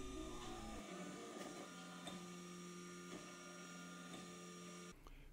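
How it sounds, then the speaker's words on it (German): A 3D printer building a casting mould for a vintage-car rubber sleeve in very thin layers, giving off a steady whirring motor hum with faint stepping tones and small mechanical ticks, quiet and close, alone. "Während des 3D-Drucks baut sich die Form in sehr dünnen Schichten auf."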